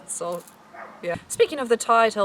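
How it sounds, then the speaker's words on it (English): A dog yips and barks in the background in a few short, sharp bursts, mid-distance and moderately loud, overlapping someone talking in the foreground. "Pardon the dog in the background."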